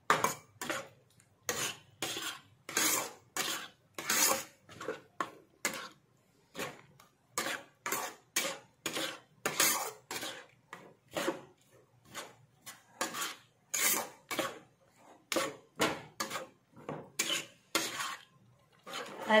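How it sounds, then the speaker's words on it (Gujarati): Repeated scraping strokes of a spoon stirring sugar in a pan for guava laddu, each stroke a distinct rasping swipe in a steady rhythm. The sound is close and clear, with no voices. "હલાવીશું ખાંડ જ્યાં સુધી મિક્સ ન થાય ત્યાં સુધી"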